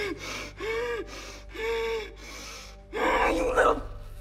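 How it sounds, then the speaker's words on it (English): A woman in the horror film Ready or Not gasps and wheezes hysterically, several sharp ragged inhalations in a rhythmic series, ending in a louder, strained panting burst, close and alone. "She seems to do the wheezing and panting in hysteria really well"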